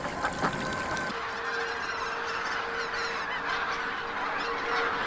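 Mallards squabble over food in a winter rice paddy among pintails, giving off a burst of harsh honking calls at the start, then a steady chorus of waterfowl noise with no talking.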